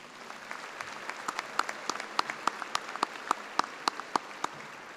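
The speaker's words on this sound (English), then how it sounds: "Please join me in a round of applause for these individuals." Audience applause at a spring agriculture commencement ceremony, a steady bed of many hands clapping with sharper individual claps popping out at a fairly even rhythm, moderately loud throughout.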